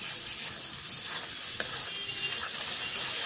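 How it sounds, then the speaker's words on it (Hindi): Spices frying in a pan for an egg curry: a continuous bright sizzle with faint, occasional stirring clicks, heard alone and close. "मसालों को भूजिएगा ज़रूर, जलने मत दीजिएगा"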